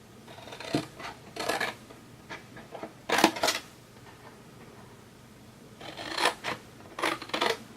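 Scissors snipping paper while making a gift box, several short crisp cuts in separate clusters with quiet gaps between them, close and fairly soft.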